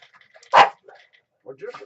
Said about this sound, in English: he scratches his backside on my chair, and then he starts barking every time he itches